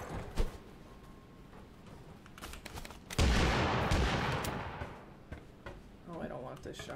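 Shotgun fire in the video game Totally Accurate Battlegrounds, a sharp blast followed by a booming burst that rings out and fades over a few seconds, with scattered clicks and clatter around it.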